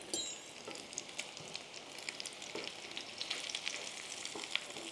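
Crab cakes made with Stovetop stuffing fry in a pan over medium heat, giving a steady, close sizzle dotted with small crackles and pops for the whole stretch, with no talking.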